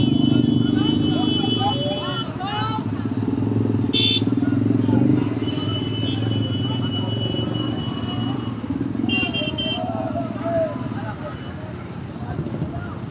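Dozens of motorcycles ride together through dense traffic, their engines forming a continuous close drone, with a few short horn beeps cutting through.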